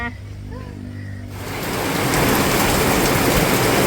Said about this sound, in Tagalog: Umulan na po ng malakas mga Chula. Grabe po ang ulan.